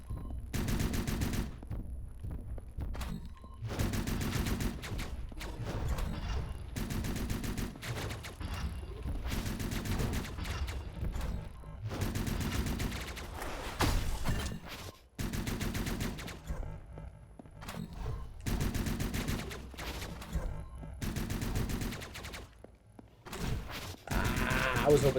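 A chain gun enemy in Hyper Light Drifter firing long rapid bursts of shots, loud and repeated across the stretch with brief gaps between volleys, mixed with game sounds.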